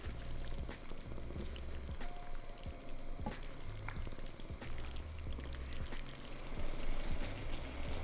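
Cheeseburger pasta with grated cheese and gherkins stirred in a pan, giving soft wet scraping and sloshing with light sizzling under a steady low hum, close and continuous.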